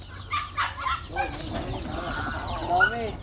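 Hens cluck softly in short, scattered calls, fairly close, with faint background noise and a few murmured sounds.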